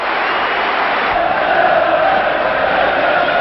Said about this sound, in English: the crowd are baying for Pearce to get that goal